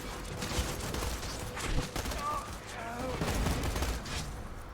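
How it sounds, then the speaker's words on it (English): Bursts of explosions and gunfire near a lighthouse in the video game Borderlands 2, coming in rapid clustered volleys over a steady busy backdrop at moderate distance. "I hear explosions coming from the lighthouse."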